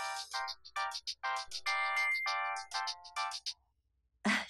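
A mobile phone ringtone plays as a repeating melodic tune, loud and close, with a short burst of noise at the end, in an indoor scene from a Vietnamese TV drama.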